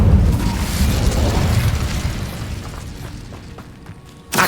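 A fiery Incendio spell bursts in the Hogwarts Legacy video game, a loud, dense roaring blast that slowly fades over several seconds before a sharp new burst flares at the end.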